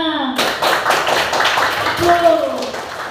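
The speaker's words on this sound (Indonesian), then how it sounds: "Ya, tepuk tangan." A group of children applauds in a classroom, a dense patter of clapping that starts abruptly and continues, with young voices mixed in.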